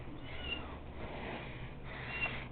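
A four-week-old kitten gives soft, faint meows close by, with a few short calls over low background noise.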